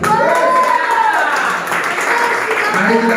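An audience at a church sermon breaks into a sustained burst of hand clapping that stays loud and dense for several seconds, mixed with voices in the room.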